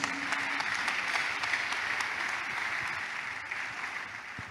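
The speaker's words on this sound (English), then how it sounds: "Can we clap for Jesus?" A church congregation clapping together in worship, sustained and fairly loud applause filling the room for the whole stretch, with no talking over it.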